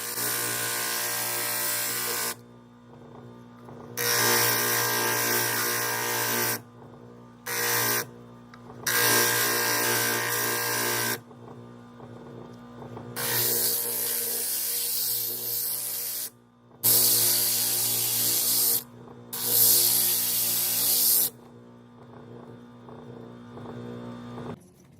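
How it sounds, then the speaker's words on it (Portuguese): Bursts of harsh, hissy abrasive noise as a plastic model part is sanded, repeated strokes with short pauses between, close up, under a steady low hum. "Então nós vamos começar lixando ela aí"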